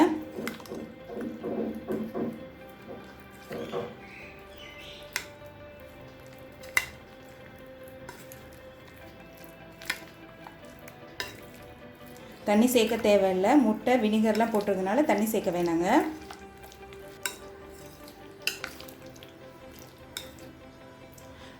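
Chicken pieces are mixed in a bowl with beaten egg, vinegar, salt and marinade, giving a few seconds of close, wet squishing and stirring in the middle, surrounded by someone speaking Tamil.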